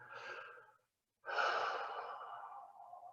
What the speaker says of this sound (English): And as we exhale,